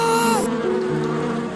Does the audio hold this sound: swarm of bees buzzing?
yes